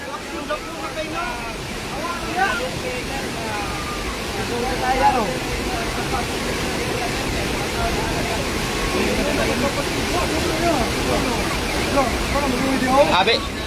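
Steady broadband rush of fast-flowing floodwater in a stream after heavy rain in Cebu fills the whole clip, loud and continuous, with voices faintly audible beneath the roar.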